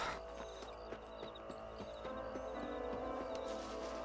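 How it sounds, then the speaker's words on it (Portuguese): Horse hooves clip-clop at a steady trot in the Western video game Red Dead Redemption, sounding close and rhythmic over a soft ambient background. "Monte no seu cavalo, vamos lá."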